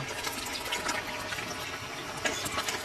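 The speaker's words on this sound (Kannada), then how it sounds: "ಈ ನೀರನ್ನೆಲ್ಲ ಈಗ ತೆಗಿಲಿಕ್ಕೆ ಉಂಟು, ಬಿಸಿ ಬಿಸಿ ಉಂಟು, ಅದಕ್ಕೆ ತಣ್ಣೀರು ಹಾಕುವ." Cold water pours steadily into a vessel of hot soaked soya chunks in a home kitchen, a continuous splashing gush that stays fairly faint and even without any voices.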